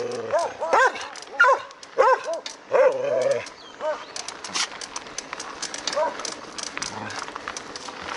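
Protector dog on a Colombian street barking repeatedly in short sharp bursts, close and loud, with a voice speaking in between and bird chirps in the background.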